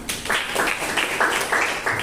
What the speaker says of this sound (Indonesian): Tepuk tangan buat Sami.